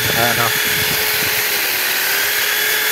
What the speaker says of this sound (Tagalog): nakakangalay magbutas ng sungay